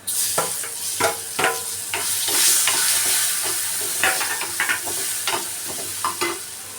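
Finely chopped tomato hitting a pan of dal tadka, giving a steady near sizzle with repeated spatula stirs and scrapes throughout.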